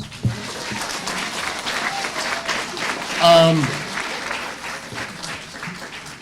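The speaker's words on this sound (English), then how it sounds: "Give them a round of applause." An audience at an August Days graduation applauds new broadcasting graduates with steady, moderate clapping, while a voice briefly speaks over it midway.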